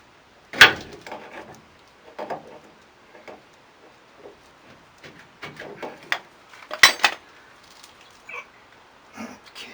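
Wooden mallet tapping a ball joint on a 1994-2001 Dodge Ram 1500, with a handful of sharp, scattered knocks and lighter clicks close by in a quiet shop.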